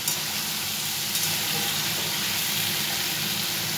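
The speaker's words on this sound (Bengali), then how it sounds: "ওলটা ভাজা হবে, একটু ভালো মতোই ভাজা হবে, একটু লাল লাল মতন ভাজা হবে।" Chunks of elephant foot yam frying in oil in a pan, giving a loud, steady, close sizzle that holds constant throughout.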